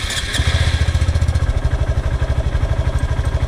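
A Honda Grom motorcycle with its stock exhaust idles after a cold start, giving a close, loud, rapid, even pulsing putter.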